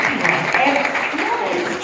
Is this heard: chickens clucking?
no